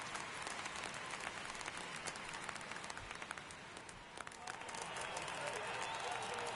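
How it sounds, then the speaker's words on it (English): A crowd at Fenway Park in a baseball video game applauds and cheers steadily during a playoff game, a dense, continuous wash of clapping under a commentator's voice. "Crowd here at Fenway."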